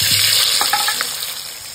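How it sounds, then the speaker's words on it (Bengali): Turmeric-boiled potatoes frying in hot oil, a loud, close, continuous hissing sizzle with faint stirring. "আলুটা লাল করে ভেজে নিয়েছি"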